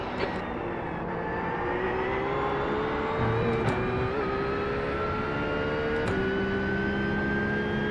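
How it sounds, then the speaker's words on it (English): A race car engine in an eNASCAR racing video game at Martinsville, a steady high droning whine that climbs gradually in pitch as the car approaches, with a few brief sharp clicks over the continuous tone. "there's a faster car approaching"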